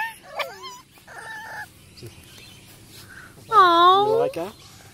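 French bulldog puppies whimper and yip in short high-pitched cries, with one louder drawn-out whine near the end, while people talk nearby.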